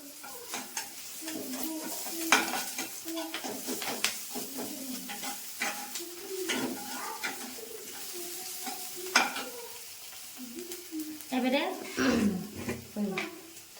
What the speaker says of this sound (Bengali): তো কিছুক্ষণ আমি নেড়ে নিতে হবে আমাকে। যতক্ষণ না পেঁয়াজটা যতক্ষণ না লাল হয়